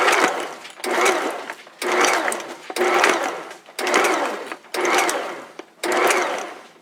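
A Bosch kitchen mixer pulses chocolate chunks into banana bread batter in seven short, evenly spaced bursts of whirring motor, each about half a second long with brief pauses between, close and fairly loud.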